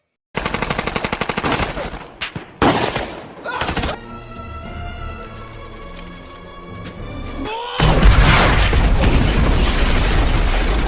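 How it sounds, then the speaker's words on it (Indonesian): Gunfire and rocket blasts from a film battle scene, a general's troops attacking: loud rapid machine-gun bursts, then booming explosions and a rumbling roar, with a dense barrage at the end. "pasukan jenderal yang telah sampai di tempat tersebut dan menyerang mereka dengan senjata dan bahkan roket"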